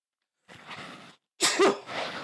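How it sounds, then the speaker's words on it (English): A single person sneezes indoors, a short inhaled buildup followed by a loud, sharp burst close to the microphone, with no talk during it. "Sorry, I sneezed."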